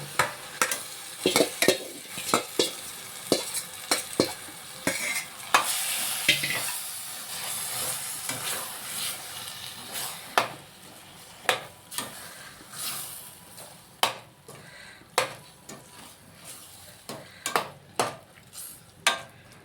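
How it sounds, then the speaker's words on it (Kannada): Marinated mushrooms tipped into a hot pan with garam masala for mushroom Ambur biryani, then stirred: repeated sharp spoon-on-pan scrapes and knocks in an irregular rhythm over a steady sizzle, close and fairly loud. "ಈಗ ಮ್ಯಾರಿನೇಟ್ ಮಾಡಿ ಇಟ್ಕೊಂಡಿದ್ವಲ್ಲ, ಅದು ಮಶ್ರೂಮ್ ಹಾಕ್ಬಿಡೋಣ"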